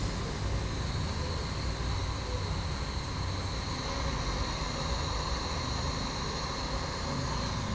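A welding torch brazes the filter joint on a refrigerator's capillary line, giving a loud, continuous hissing roar that holds steady close by without a break.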